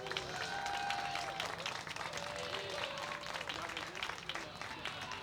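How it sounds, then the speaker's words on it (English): Audience applause and cheering fill a bar hosting a cycling story night, a dense, steady wash of clapping that stays loud for the whole stretch, with voices mixed into the crowd noise. "So please help me in giving a big warm applause for Eli Oldham"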